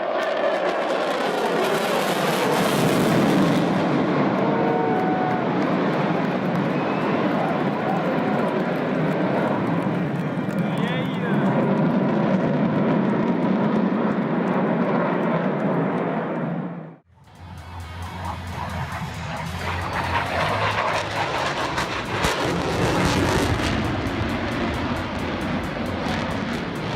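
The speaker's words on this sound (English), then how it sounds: "A spin is usually a critical flight condition, but not for the Raptor fighter." A Raptor fighter jet flying and spinning, a loud continuous engine roar that holds steady, breaks off sharply for a moment, then returns with a deeper rumble.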